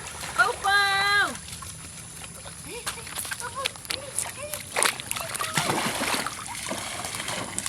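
A child swims and splashes in water, with intermittent close sloshing and splatter sounds amid lively voices, a child's high calls and adults talking throughout.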